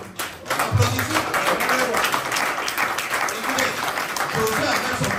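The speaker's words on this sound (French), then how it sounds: "Applaudissez." A church congregation at a sermon breaks into loud, sustained applause, dense clapping mixed with crowd noise that swells quickly and stays steady, with voices heard in the mix.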